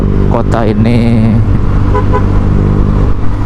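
Honda Vario 150 motorcycle fitted with a Kenziro aftermarket exhaust, riding in city traffic. A loud, close engine drone runs alongside a short car-horn toot, and a rider talks over it.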